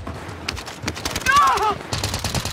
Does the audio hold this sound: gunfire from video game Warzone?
yes